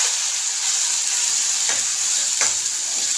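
A ground spice paste fries in hot oil for okra kadhi, a loud, continuous close-up sizzle with two short scraping stirs of a spoon through the pan.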